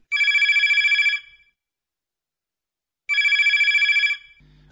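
Telephone ringing on a radio phone-in folk song show, two clear electronic rings about a second each separated by a pause of silence, close and loud.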